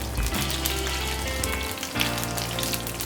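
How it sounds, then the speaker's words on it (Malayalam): Chilli chicken pieces fry in hot oil with a loud, continuous close-up sizzle and crackle, steady throughout with a low hum underneath, and no talking. "നമ്മളിത് 2-3 പ്രാവശ്യമായിട്ടേ നമുക്കിത് വറുത്തെടുക്കാൻ പറ്റുള്ളൂ"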